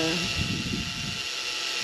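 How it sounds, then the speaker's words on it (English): A high-pitched power drill whines steadily through a boat hull, loud and close, with a gritty, buzzing texture throughout. "It always feels so weird to drill holes in your boat."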